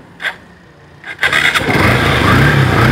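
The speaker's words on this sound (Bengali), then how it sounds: "আমরা বাইকের সাউন্ড কন্ডিশনটা আপনাদেরকে শোনানোর চেষ্টা করতেছি" A motorcycle with double disc brakes is started: two short clicks of the starter, then the engine catches and settles into a loud, close, steady running rumble.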